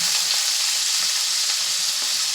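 Onion, green chili and chopped garlic fry in oil for Bengali aloo bhaja, producing a loud, steady, close hiss of sizzling with light stirring scrapes and no talking.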